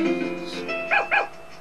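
Two quick, close dog barks or yips cut through a sustained musical tone in the video game Harvest Moon: A Wonderful Life.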